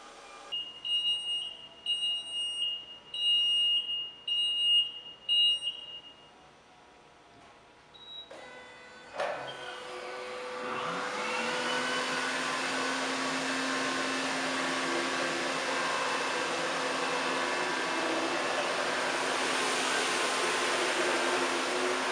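A Hurricane 900 XTT 30-inch cylindrical floor scrubber gives a series of short electronic beeps, goes quiet, then starts up. Its motor builds into a loud, steady whirring drone as the machine drives forward.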